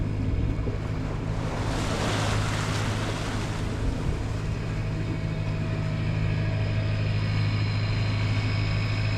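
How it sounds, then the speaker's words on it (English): Boat wake waves wash and splash along the rocky shore of Lake Superior, a continuous loud rush of water with a swelling surge early on, over a steady low engine-like hum. "splashing on the rock all up and down the shore. The wake we came in on is making quite a wake along the shore."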